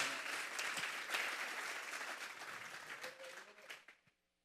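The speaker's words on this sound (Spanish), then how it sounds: "Denles ofrenda de palmas a Dios en esta hora." Congregation in a church service clapping together as an offering of praise to God, a dense, sustained burst of applause that holds steady for about four seconds before quickly tapering off.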